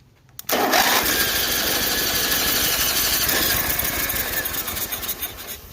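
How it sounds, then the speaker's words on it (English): A 1984 Agway 1842 tractor engine cranks and catches after a sharp click, a loud steady mechanical whir that continues, slowly wavering, to the end without talk. "See if this 84 starter still works."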